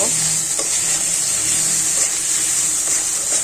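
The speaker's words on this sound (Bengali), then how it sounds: "সব কয়টা মশলা একসাথে দিয়ে আমি একটু ভেজে নেব।" Whole spices fry together in a hot pan for a Bengali river-fish curry, giving a steady, loud, continuous sizzle with faint stirring scrapes, close and alone with no talk.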